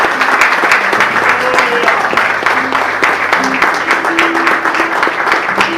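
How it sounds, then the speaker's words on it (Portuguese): A church congregation applauds in a loud, continuous wash of clapping that holds steady for several seconds, with voices calling out and singing tones faintly beneath. "Então aplauda o nome do Senhor Jesus"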